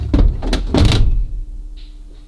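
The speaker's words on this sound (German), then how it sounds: "Jetzt machen wir nochmal eine Tür zu." A solid carbon car door on a Porsche thunks shut close by, a couple of dull knocks followed by a heavy closing thud, then a faint short tone.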